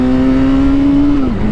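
Suzuki GSX-R 600 motorcycle engine revving loud and close, a steady tone that climbs slightly and then drops away near the end.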